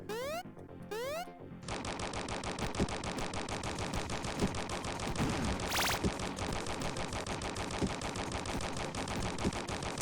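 Rapid automatic assault rifle fire in a small indie game, a relentless stream of sharp, evenly spaced shots running almost nonstop after a few brief synthetic blips at the start.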